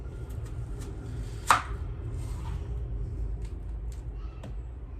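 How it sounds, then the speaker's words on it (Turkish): A knife slicing through a red onion on a cutting board: one sharp, distinct chop stands out, followed by a few faint taps against a low background hum. "Şimdi bence patates kestiğim yerde soğan kesebilirim."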